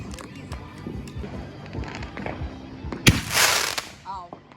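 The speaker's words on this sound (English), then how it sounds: "He's watching the fireworks." Outdoor fireworks bursting over an evening gathering, a series of bangs and crackles with one big sharp report followed by a fizzing crackle, while people chat and shout nearby.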